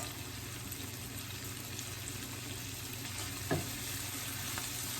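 Food sizzles steadily in a pan seasoned with Himalayan salt for a spicy salmon and brown rice dinner, a continuous close frying hiss broken by one soft tap partway through.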